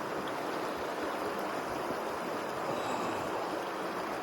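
Cold mountain stream water flowing steadily along the Phobjikha Nature Trail in Bhutan's Gangtey Valley, a constant broadband rush heard close and alone without a break.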